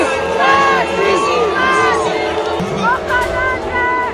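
A large crowd shouts rhythmic chants together, many overlapping voices loud and close, rising and falling in waves without a break.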